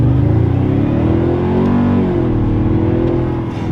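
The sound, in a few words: Toyota Sequoia twin turbo V6 hybrid engine accelerating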